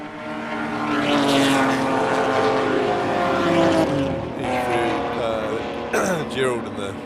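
Race cars at a Skope Classic circuit race, a BMW 325i among them, roar through a corner with engine notes climbing and falling as they pass close by, while a commentator talks over the continuous din.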